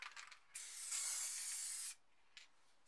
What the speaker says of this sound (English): so I'm just going to spray a line down here.